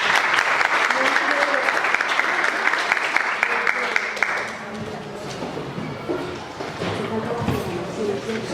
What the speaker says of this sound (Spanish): Recibámoslo con un fuerte aplauso a él.